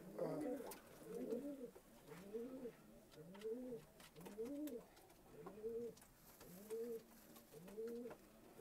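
Pigeons in a Vellore district loft coo close by in a steady series of rolling, throaty phrases, repeating roughly every second with short pauses between them.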